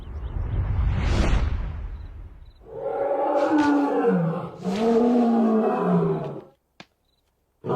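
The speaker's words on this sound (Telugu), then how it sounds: "కుక్క పిల్ల కాదు, పులి." A tiger roars in a Telugu comedy film scene: a loud swelling rush, then two long, deep, growling roars close up, ending abruptly in silence.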